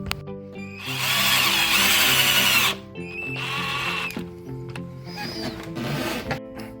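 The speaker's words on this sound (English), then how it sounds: "So I'm going to drill the holes and put screws in there next." A power drill whirs loudly in a long burst while drilling screw holes for a wall-mounted shoe rack, stops, then runs again in two shorter, quieter bursts with brief pauses between.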